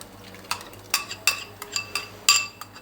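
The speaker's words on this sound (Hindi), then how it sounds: "लहसुन, अदरक और प्याज का पेस्ट जो है वो फ्राई होना शुरू हो गया है" Garlic, ginger and onion paste frying in half a cup of cooking oil inside a pressure cooker, with a faint steady sizzle under sharp metal clinks and scrapes of a spoon stirring against the pot.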